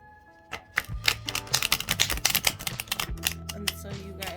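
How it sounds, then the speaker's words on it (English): Tarot cards riffled and shuffled by hand at close range, a run of quick crisp flutters and taps repeating over a few seconds, with faint low background sound underneath. "I will shuffle these 3 times on camera"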